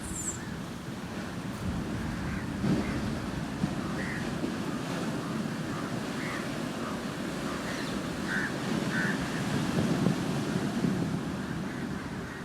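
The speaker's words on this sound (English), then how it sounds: "The sounds of this recording, the waves," Steady ocean waves wash onto a beach in a continuous, even roar of surf, with soft wind noise and a few faint birdcalls scattered over the top.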